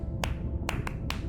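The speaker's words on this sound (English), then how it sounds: "Sperm whales make clicks in sort of rhythmic patterns that we call codas." Sperm whale clicks in a 1+1+3 coda pattern in the Beyond Blue video game: four sharp clicks spaced unevenly over a low rumbling underwater background.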